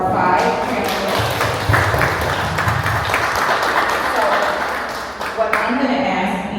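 Applause from an audience at a community business networking session, greeting five panelists; steady clapping with crowd murmur and voices mixed in throughout, fairly loud and close.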